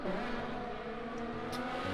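A race car in a racing video game pulls out of the pit lane, its engine droning steadily with a faint rising whine, the sound close and continuous for the whole stretch without any voices.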